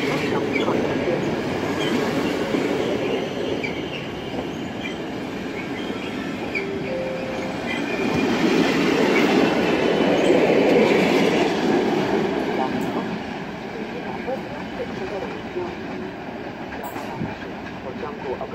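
The EIC Krakus train, hauled by electric locomotive EP09-046, rolls through Warszawa Wschodnia station with a continuous rumble of wheels and cars that swells in the middle, while a station announcement plays over it.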